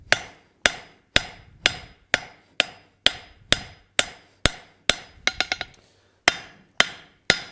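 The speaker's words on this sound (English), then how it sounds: "I'm matching the angle with my hammer." Steel bar stock struck with a hammer on an anvil while tapering a latch piece, a steady series of sharp, ringing close blows about every half second, with a quick cluster of lighter taps midway and no talk.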